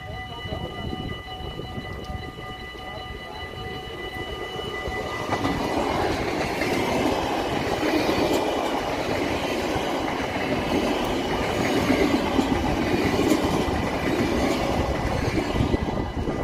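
A VIRM double-decker passenger train passes close by, a broad, steady rumble of wheels on rail with clattering and faint higher tones, growing louder and fuller partway through and holding at that level.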